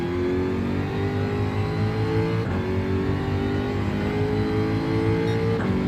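A Citroen race car in Gran Turismo, its engine note rising and falling steadily as it accelerates and shifts through gears, loud and continuous for the whole stretch with no voices over it.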